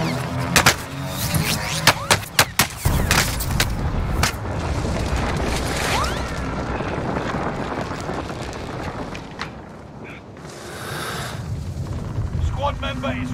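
Gunfire and explosions ring out in a solo Call of Duty: Warzone Rebirth Resurgence tournament match, sharp, loud shots in a quick cluster early on, then rumbling booms and wind, with voices heard over the action.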